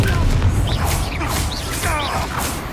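A Confringo fire spell goes off in Hogwarts Legacy as a dense, rumbling burst of magical explosions and crackling debris with whooshing effects, loud and sustained, while character voices are faintly mixed in.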